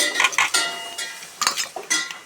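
Food is stirred in a pot with a metal spoon, making a series of irregular clinks and scraping knocks against the vessel, close and fairly loud, with a faint sizzle between strokes.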